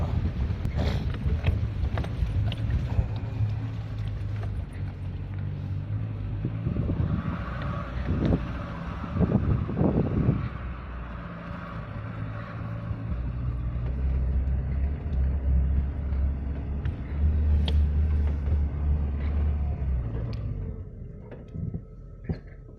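Safari vehicle in four-wheel drive moving through Corbett Tiger Reserve, a steady low engine rumble with wind buffeting, bumps and rattles, changing pitch as the vehicle works along the track.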